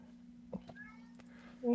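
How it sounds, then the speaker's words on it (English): A faint cat meows once in the background of a room, soft and brief, over a low steady hum, with a voice starting to speak at the end. "I have a kitty in the background. You can hear it."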